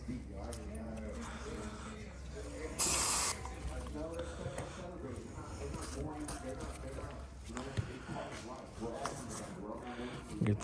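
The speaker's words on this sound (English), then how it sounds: "spray everything out, brake cleaner" Brake cleaner blasts from an aerosol can in one short hissing burst while front differential parts from a 2014 Chevy Silverado 1500 4x4 are cleaned, with someone talking throughout and workshop clatter around him.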